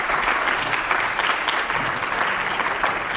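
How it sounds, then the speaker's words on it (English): High school students and audience at an Arab Student Union poetry slam applaud, giving a dense, steady wash of many hands clapping at a fairly close range for the whole stretch, without any voices standing out. "So give yourselves a round of applause, please."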